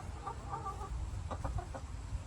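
Backyard hens cluck in short, soft bursts of a few notes each, fairly close, with steady low background rumble and no talking.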